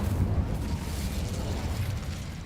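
In the Hogwarts Legacy video game, an Incendio fire spell is cast and gives off a loud sustained whoosh and roar of flame that stays dense and steady from start to end.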